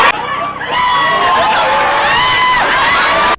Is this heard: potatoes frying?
no